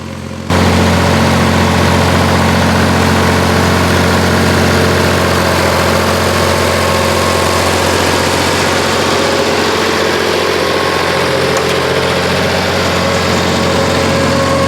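An old two-wheel-drive Ford tractor engine runs steadily and loudly close by for the whole stretch, with a constant low rumble and no voices.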